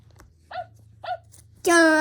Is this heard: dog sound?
yes